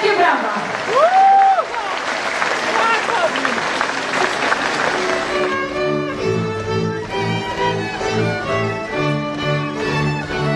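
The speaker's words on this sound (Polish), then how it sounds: "A to Julka i Piotrek. Wielkie brawa!" An audience cheers and applauds young performers Julka and Piotrek at a Łącko folk event, the clapping mixed with voices and then carrying on under lively folk music.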